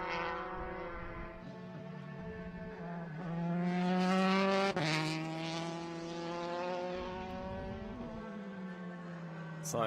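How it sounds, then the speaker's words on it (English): A race car at Queensland Raceway accelerates through its gears, the engine note climbing in pitch and dropping cleanly at each smooth upshift, loud and near, with a commentator's voice faintly underneath. "listening to the car, you'll notice that when they shift up to a higher gear, it's a very smooth gear shift"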